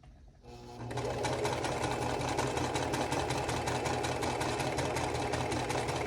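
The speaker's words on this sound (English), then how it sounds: "Now we're sewing." A sewing machine stitches a quilt block, starting up after a brief moment and then running fast and steady with a close, even mechanical chatter.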